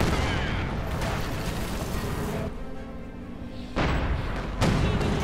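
Artillery fire and explosions in the Company of Heroes 2 video game: dense, continuous rumbling booms and blasts, briefly quieter midway before heavy barrages resume.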